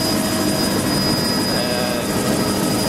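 A helicopter flies overhead with a loud, steady rotor and engine roar that fills the whole moment without letting up, over a pebble sand spit.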